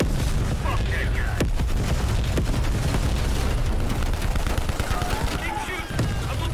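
Dense, continuous gunfire from a Call of Duty Black Ops Cold War campaign firefight: rapid bursts and heavy booming shots crowd the whole stretch, with shouted voices mixed into the din.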